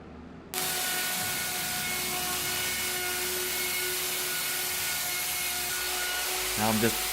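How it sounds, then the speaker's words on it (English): A power drill drives screws to fasten a wooden storefront sign, a steady loud mechanical whir running throughout with a brief stuttering burst near the end, with someone speaking over it. "I will be running screws, as you can see right here, making sure it's fastened down really well"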